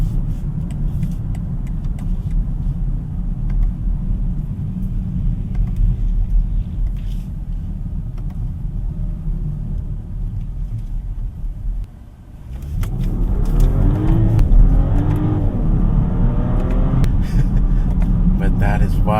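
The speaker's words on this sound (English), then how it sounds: "just hearing that inline 6 puts a smile on your face" Inline-six engine of a 2025 BMW X5 xDrive50e M Sport hybrid accelerating in sport mode, a steady loud cabin rumble that dips briefly, then rises with climbing rev sweeps; talking runs over it.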